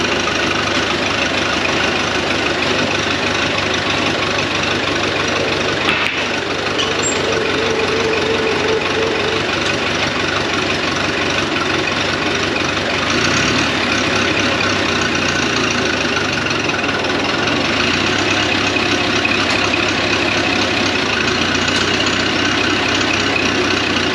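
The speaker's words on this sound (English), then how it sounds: "let it idle and just let it sit here and idle" Old tractor engine idling at a tractor show, a loud, steady low chugging that runs unbroken and close throughout, with no talking over it.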